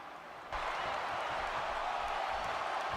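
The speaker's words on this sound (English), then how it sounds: "Another electric crowd on hand here for SmackDown" A live crowd at a SmackDown wrestling arena keeps up a broad, steady roar of cheering and clapping that suddenly swells louder and then holds, with no voices standing out.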